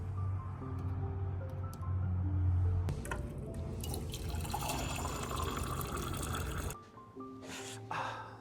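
Hot water running steadily from a tap, a continuous splashing flow that stops abruptly near the end, followed by a few faint drips and small clinks.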